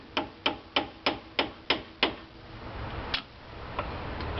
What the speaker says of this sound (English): What you want to do is pop this cap off with a screwdriver and a hammer